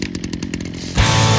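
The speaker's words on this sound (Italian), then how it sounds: "Dopo aver acceso il decespugliatore, mio padre ha iniziato subito a tagliare l'erba lungo il bordo di tutto il piazzale." A brush cutter begins cutting grass along the edge of a yard. A choppy engine idle suddenly revs into a loud, sustained, buzzing whine about a second in, close by and with no speech.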